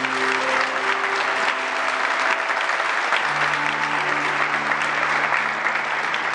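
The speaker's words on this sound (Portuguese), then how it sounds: "Pode aplaudir essa palavra." A church congregation applauds during a baptism Mass, with steady, loud, sustained clapping filling the whole stretch, accompanied by held organ or keyboard tones underneath.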